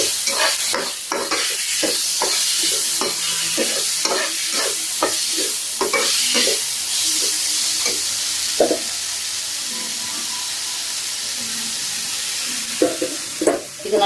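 Two cut tomatoes are sautéed with ginger garlic paste in a pan for mushroom gravy: a loud, steady sizzle with rhythmic scraping strokes of a spatula, which pause midway and return near the end.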